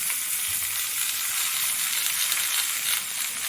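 Cut ridge gourd and potato hit a pan of lightly fried onions, producing a loud, even sizzle that holds steady from start to finish.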